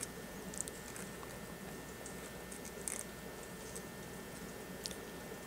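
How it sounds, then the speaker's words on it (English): Steady, dense patter of heavy rain pouring outside in the Northeast United States fills the background, a continuous wash of drops with occasional sharper taps, no voices. "it is once again pouring rain in the great Northeast."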